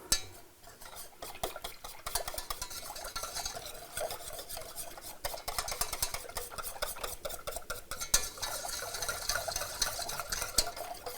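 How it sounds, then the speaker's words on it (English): Apple juice mixture for an apple pie being whisked in a bowl, a dense, steady clatter of wire against the bowl that runs the whole time, fairly close and with no talk. "And then we're going to whisk it."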